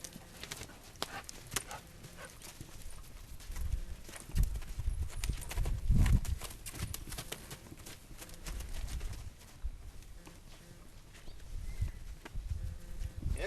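Hooves of an older, unhalter-broke colt clip-clop softly as he steps forward during halter training, a quiet uneven series of footfalls with a low background rumble and some louder thuds midway.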